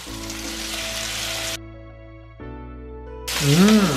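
Sliced tomato frying in a little oil for paella makes a steady close sizzle under a faint background hum, cuts off midway, then returns louder at the end.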